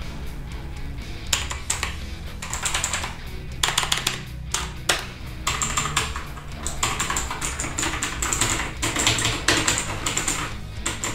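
Rapid typing on a Gigaware K880 mechanical gaming keyboard, dense bursts of crisp clacking keystrokes with brief pauses, close and loud with no talk.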